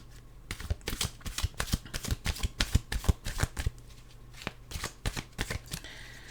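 A deck of cards is shuffled for a tarot-style reading, a quick run of riffles and snaps spread over several seconds, close and crisp, with no voice over it.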